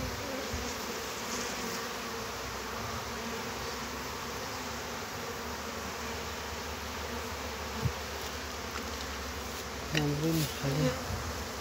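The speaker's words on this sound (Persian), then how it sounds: "زنبوروی محلی هست" A swarm of local honey bees buzzes in a dense, steady drone throughout, with a brief voice near the end.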